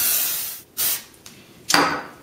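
Cooking spray hisses in short bursts onto a 9-inch cake baking pan being greased, three close blasts separated by brief pauses.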